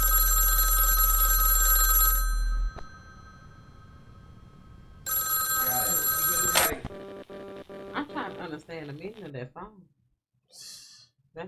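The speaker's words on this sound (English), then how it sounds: "Yeah, but that phone again." A phone rings with a steady, loud bell tone in two separate bursts with a pause between them, followed by a voice with sighs and breathy sounds.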